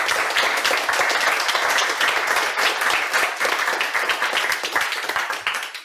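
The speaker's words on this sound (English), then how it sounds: "could we maybe get a round of applause for that?" An indoor crowd at a beer society's annual general meeting breaks into sustained, dense applause that stays steady and loud, then fades slightly at the end.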